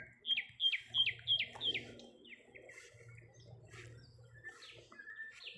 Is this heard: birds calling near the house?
yes